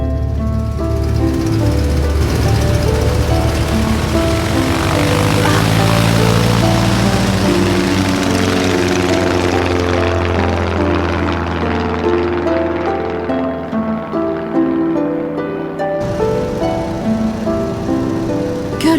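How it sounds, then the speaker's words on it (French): A propeller plane's engine and spinning airscrew roar loudly during takeoff, swelling to a peak then gradually fading as the aircraft climbs away, continuous throughout. "L'hélice tourne, waouh! Attention, nous allons décoller."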